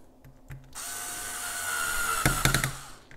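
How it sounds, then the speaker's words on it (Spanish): Power screwdriver driving a screw to fasten the blue wire into the N terminal of a solar panel surplus energy manager, a loud steady whir of about a second and a half followed by a few short bursts. "lo colocas en la N y atornillas."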